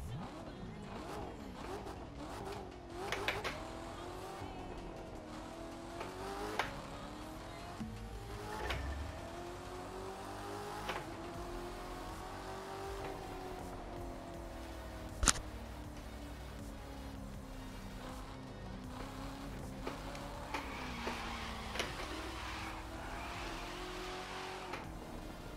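A 1000 BHP Corvette in The Crew 2 racing game drifts with a rising and falling engine roar, revving through gears while tires squeal in bursts, with occasional impacts and loud throughout.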